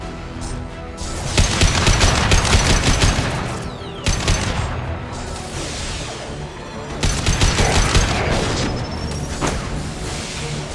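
Gunfire in the video game Mass Effect 2, with dense bursts of rapid shots and booming impacts in three loud volleys separated by brief dips.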